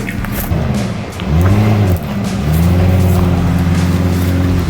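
Classic Mopar car driving slowly with all four wheels rolling after years of sitting, a steady close engine drone with harmonic tones shifting as it moves, loud throughout.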